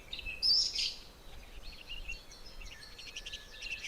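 A few thin, high chirps from oxpeckers, small birds on a rhino, brief and fairly faint over a quiet outdoor background.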